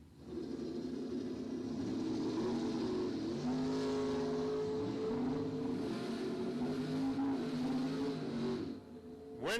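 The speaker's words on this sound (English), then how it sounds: "Camaro versus Chevelle. 68 Camaro left, 69 Chevelle in the right lane" A 1968 Camaro and a 1969 Chevelle race each other at a bracket drag strip, their engines roaring together at a distance as the revs climb and shift, loud and continuous before dropping off at the end.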